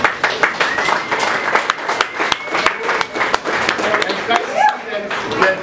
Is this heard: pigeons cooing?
no